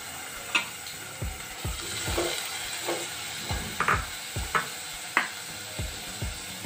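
Thinly sliced onions sizzle and fry in a hot pan on a stove, a steady low crackle broken by occasional stirring clicks and scrapes, close up, with no voices.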